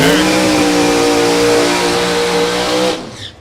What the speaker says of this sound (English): You got to warn me when those loud cars are coming up.